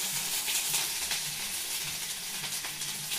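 Dried red chillies and ginger paste sizzle and crackle in hot oil in a village kitchen, a steady, even frying hiss with faint stirring.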